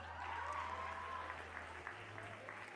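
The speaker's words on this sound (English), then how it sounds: "Give her a nice round of applause." Applause from students at a Grade 10 maths workshop, a steady wash of clapping throughout, moderately faint, with a voice talking over it and a low hum underneath.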